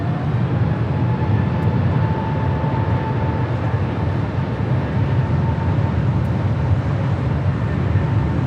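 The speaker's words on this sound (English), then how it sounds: "Year-old 747-8 Intercontinental Yankee Charlie, flight" A Boeing 747-8 Intercontinental jet at Los Angeles LAX airport makes a steady, broad engine roar with a faint tonal whine. It is continuous and fairly loud throughout, with no voices.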